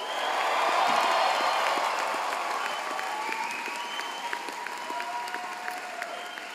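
A university pharmacy commencement audience cheers and applauds in a large hall, a loud swell of clapping and whoops that gradually settles into steadier, thinner applause with a few distinct claps near the end.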